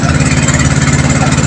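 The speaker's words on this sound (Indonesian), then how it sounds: "nah kita lagi numpak sepeda ya" A motorcycle engine drones loud and close while riding through Malang, Indonesia, a steady mid-pitched hum with a rapid pulsing beat and no voices.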